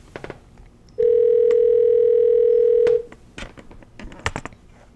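A telephone dial tone sounds as a call is placed, a loud steady tone holding for about two seconds, with faint room noise and small clicks before and after it.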